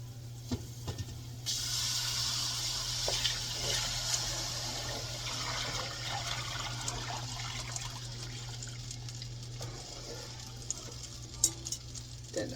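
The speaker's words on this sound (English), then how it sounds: "So now is the time that we're going to add our milk and our water." Milk and water are poured into a hot pan of sizzling country fried steak drippings for gravy, giving a steady, soft liquid rush over a faint hum, with occasional clinks and no talking.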